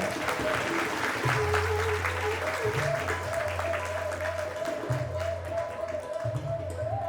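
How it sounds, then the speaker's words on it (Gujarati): A crowd applauds during an award felicitation at an SLPST Navsari Sneh Milan gathering. Continuous dense clapping runs throughout, with music or a tone sounding underneath. "તાળીઓથી વધાવીએ આપણે."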